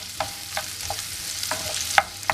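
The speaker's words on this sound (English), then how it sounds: "So I'm going to stir it all together and allow them to continue cooking" Zucchini seasoned with black pepper and salt fries in a pan, a steady sizzle broken by a handful of spaced, scraping stirs close up.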